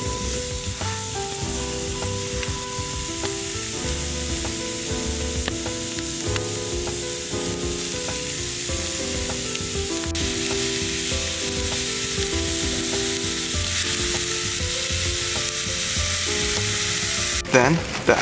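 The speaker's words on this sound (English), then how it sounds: "the beef is put into a pan slowly to get even heat distribution throughout the pan" Beef sizzles and fries steadily in a cast iron pan at an off-grid campsite in Oregon, a dense continuous crackle with occasional stirring scrapes, close and loud throughout with no talking.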